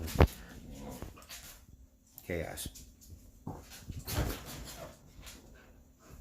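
A dog whimpers and yips in short, uneven bursts, close by, with a person talking intermittently over it.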